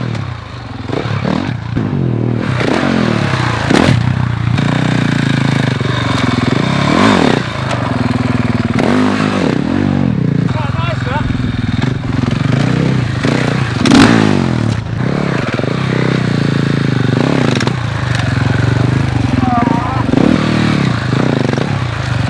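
A motorcycle engine revs and surges steadily at close range near a newly built ramp, with clatter and scraping mixed in as the bike moves; no talk is heard.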